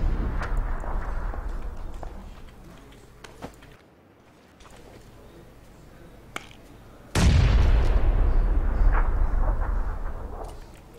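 Grenade blast in PUBG, a sudden loud explosion with a heavy low rumble that breaks in after scattered gunshots and a brief quiet, then rolls on at high level.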